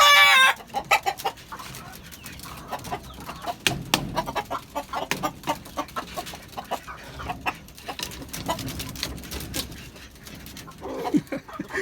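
Hens on a rooftop garden cluck in frequent bursts, close and busy, with a rooster-like crow and soft farmyard noise between calls.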